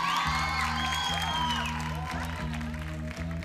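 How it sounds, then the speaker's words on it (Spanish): A studio audience at a TV panel show breaks into applause and some cheering, a steady loud wash of clapping under a sustained musical chord. "El aplauso para Rodrigo Díaz."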